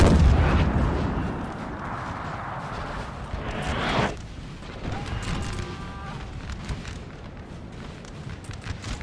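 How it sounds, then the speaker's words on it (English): Italian artillery firing in the Napoleonic Total War 3 video game: heavy booming cannon blasts and rumbling impacts in the opening seconds, then a quieter battlefield din with scattered shots. "The Italian artillery need to turn and fire on these militia."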